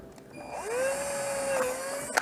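A power drill fitted with a number 39 bit bores into an axle, its motor whine climbing in pitch as it spins up and holding steady for about two seconds before a sharp click at the end.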